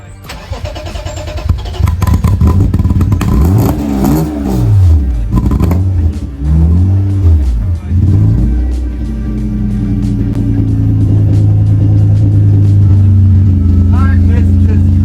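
A project car's engine cranks over, catches and revs up and down in rising and falling sweeps, then settles into a loud, steady run close by, with voices faintly underneath.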